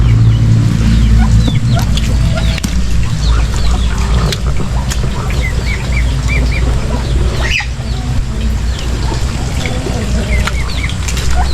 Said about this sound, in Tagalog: Nakatatapos lang natin kalustong pakainin yung mga bibi at manok.